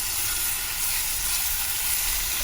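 Marinated hog plum frying in a pan for a vegan curry gives a constant close hiss and sizzle, even and unbroken, with no speech over it.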